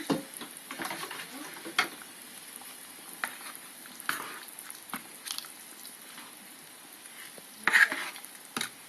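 Spoon stirring solyanka soup in a pot after lemon and olives are added: soft wet swishes and scattered light clinks against the side, close and fairly quiet with a faint simmer underneath.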